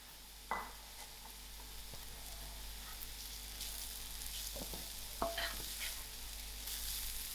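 Peppers sizzle gently in a pan for South African chakalaka, with a soft, steady frying hiss broken by a few scrapes and clacks of stirring, all fairly faint.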